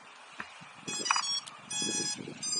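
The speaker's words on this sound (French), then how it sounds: "La radio a fait un bip et reçoit du signal." Virhuck V6 drone radio transmitter giving short electronic startup beeps, a few clipped tones followed by steadier sustained beeping, close up over faint background noise.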